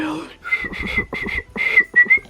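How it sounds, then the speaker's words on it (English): A child's breathy whistling, a quick run of short warbling notes rising and falling, close and fairly loud. "She loves whistling."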